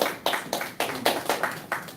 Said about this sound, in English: Please receive the brother well and give him a round of applause.